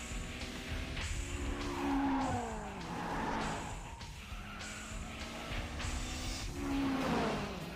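Race cars from the Initial D anime, including an AE85 with a raging turbo, scream past with engines revving and tires squealing through drifts, loud and repeated over several seconds, with no talk.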